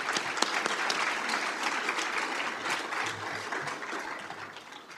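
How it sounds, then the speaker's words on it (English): Ceremony audience at a CTE award event claps for students, a sustained, moderately distant round of applause with scattered sharper claps standing out early before settling into an even patter. "I would like to give those students a round of applause."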